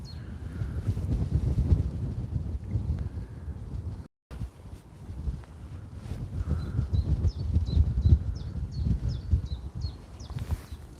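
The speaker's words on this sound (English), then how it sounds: "Just that wind's picking up a little bit." Gusty outdoor wind buffets the microphone beside a fence near a railway line, a steady low rumble with swelling gusts and a brief dropout midway, faint birdsong chirping high above it near the end.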